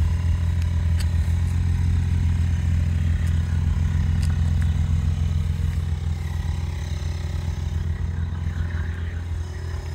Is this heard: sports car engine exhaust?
yes